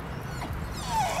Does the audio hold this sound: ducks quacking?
no